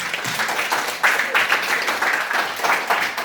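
A group claps hands together in a burst of applause in a classroom, uneven and lively, filling the room for a few seconds.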